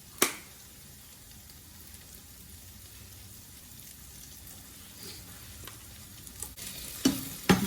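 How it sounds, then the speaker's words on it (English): Seasoned potatoes with salt and black pepper fry quietly in a pan, a soft continuous sizzle broken by a few sharp scrapes and clinks of stirring near the start and toward the end. "And I just stir it all around every now and then"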